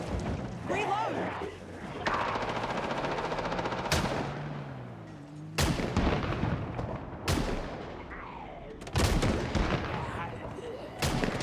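Shotgun blasts in the zombie survival game Project Zomboid: about six loud, sharp shots fire at a steady, unhurried pace, each cracking out and then fading, while a person talks over the shooting.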